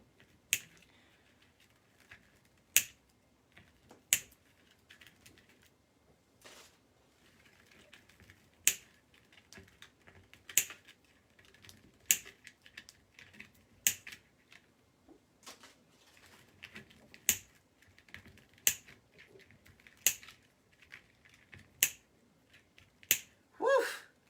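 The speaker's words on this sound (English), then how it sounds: "There's a lot of zip ties I'm cutting off here." Zip ties being snipped off a wreath frame during a craft session, heard as sharp, isolated clicks at irregular intervals, close and fairly crisp over a quiet room, with no talking.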